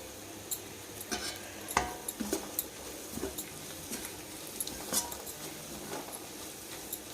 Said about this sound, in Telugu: ధనియాల పొడి జీలకర్ర పొడి అన్నీ వేసాం కదా చక్కగా వేగితే బాగుంటుంది ఇలాగా